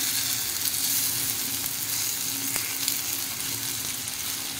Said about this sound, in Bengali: ডিম ভেজে দিচ্ছি